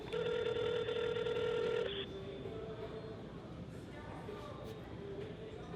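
A telephone dialing tone sounds first, then the line rings as a call to a friend is placed, the tones clear and steady against low room noise.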